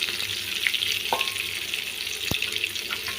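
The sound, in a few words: raw banana slices frying in a pan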